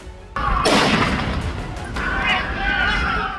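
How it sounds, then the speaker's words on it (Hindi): Gunfire from news footage of the Bondi Beach shooting in Sydney. Sharp, loud bursts and rolling booms ring out over noisy outdoor background, a few shots in quick succession. "दोनों आतंकियों ने सिडनी के बॉन्डी बीच पर कुछ इस तरह से गोलियां चलाई।"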